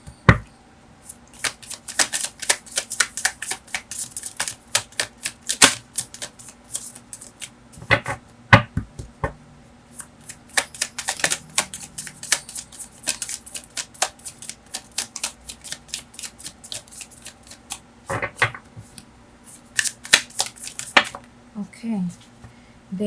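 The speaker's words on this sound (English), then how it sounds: "You can fast forward this part if you want, while I'm shuffling." Tarot cards being shuffled by hand in quick, repeated riffling bursts, close and fairly loud, with brief pauses between rounds and a few soft handling clicks.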